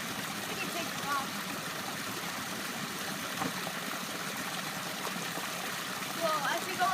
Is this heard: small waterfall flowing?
yes